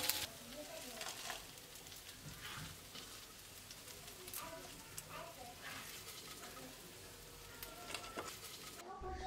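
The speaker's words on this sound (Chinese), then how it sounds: "出锅前撒上白芝麻，翻炒均匀后就可以关火出锅了。" Homemade spicy chicken with dried chilies, Sichuan peppercorns and white sesame is stir-fried in a wok: a quiet, continuous crackling sizzle broken by scraping stir strokes and occasional sharper pops, cutting off abruptly at the end.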